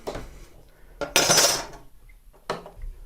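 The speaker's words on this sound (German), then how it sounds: "wenn ich hier mit meinem Messer lang schneide" A knife drags along a segment edge while building a pond on a gauge 0 model railway layout, giving a few short, close scraping strokes with quiet gaps and no talk.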